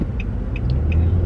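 Road traffic rolls past in a steady low rumble of car engines, with a few faint high clicks or squeaks over the drone, continuous and fairly loud without any voices.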